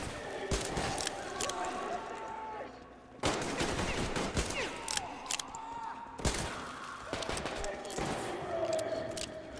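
Gunfire from a weapon in Metro Exodus, loud repeated bursts of shots with sharp attacks spread across the clip, over game background noise and some voice.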